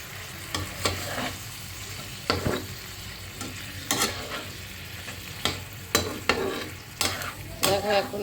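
Potato masala for ghugni is stirred and fried in a pan, giving a low background sizzle broken by repeated spatula scrapes and knocks at uneven intervals, close by with no talk.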